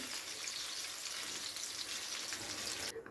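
Food sizzles and fries steadily in hot oil in a pan, a dense continuous crackle that stays even and close throughout, with no talking, cutting off abruptly at the very end.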